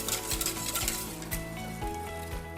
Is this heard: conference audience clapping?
no